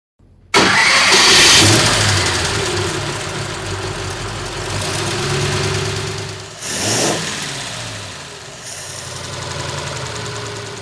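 A Ford flathead V8, freshly rebuilt, cranks and catches abruptly, then settles into a loud, steady idle with a deep low drone, two brief throttle blips breaking the rhythm midway.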